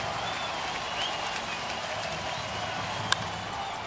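At an Oakland A's home game against Texas in August 2013, the baseball stadium crowd in the bottom of the ninth gives off a steady, distant roar of cheering and clapping, with one sharp crack standing out near the end.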